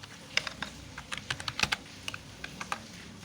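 Python code is typed on a computer keyboard in quick, irregular bursts of close, crisp key clicks, with no talking.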